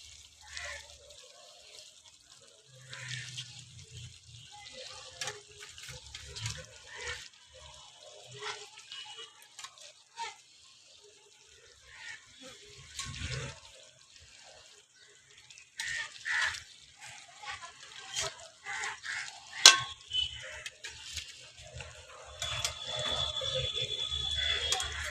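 Fish pieces fry in hot oil within a spiced yogurt gravy, giving a quiet, continuous crackling sizzle scattered with small pops and spits that swell slightly toward the end, close by with no talking.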